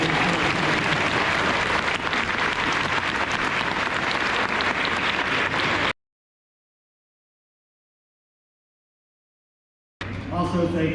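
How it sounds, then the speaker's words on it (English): Audience applause at a school Veterans Day ceremony, a loud, continuous round of clapping lasting several seconds before cutting off into silence, followed by a brief return of sound with a voice. "let's give these guys a nice round of applause again"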